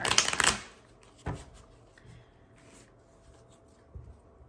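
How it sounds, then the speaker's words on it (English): An oracle card deck is shuffled close up, giving a short dense burst of riffling at the start, then a few isolated card taps and soft handling sounds in a quiet room. "I got this little oracle deck. I'm gonna pull cards from."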